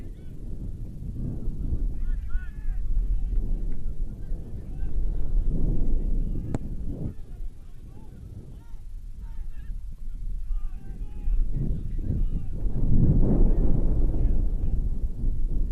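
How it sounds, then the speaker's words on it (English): Strong wind gusts buffet the microphone at an outdoor men's soccer championship in Kissimmee, Florida, as heavy low rumbling surges that swell and ease in waves under faint distant voices. "Wind continues to gust here in Kissimmee, Florida."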